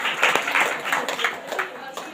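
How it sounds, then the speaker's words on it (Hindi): Congregation at a Sunday church prayer service clapping loudly in thanks, a brief burst of rapid hand claps with voices mixed in. "इसलिए एबान परमेश्वर को जोरदार तालियों के साथ धन्यवाद देते हैं।"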